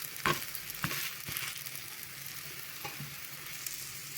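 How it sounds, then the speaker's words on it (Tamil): An adai dosa cooks on a hot pan with a quiet, even crackling hiss, broken by a few sharp ticks and pops near the start. "ஒரு 2 நிமிஷம் வெந்துடட்டும் தோசை."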